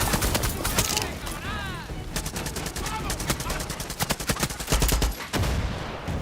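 Gunfire in the video game Far Cry 6, rapid machine-gun bursts and single shots close and loud, mixed with whooshing effects and game sounds, ending in a heavier boom.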